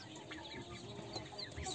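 A bantam broody hen clucks softly and steadily with her chicks close beneath her, a faint, low murmur of calls with no other voices.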